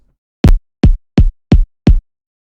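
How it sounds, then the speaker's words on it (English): Five punchy synthesized kick drum hits made in the Kick 2 plugin, evenly spaced and played alone, each a loud thumpy low boom with a sharp attack that decays quickly into silence. "a kick that I made in Kick 2, which sounds like this"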